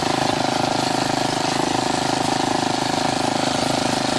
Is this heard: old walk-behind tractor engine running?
yes